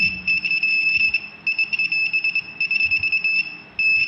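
A faulty voltage tester gives a high electronic beep that keeps breaking off and restarting in irregular bursts, a thin, unsteady tone over low background noise.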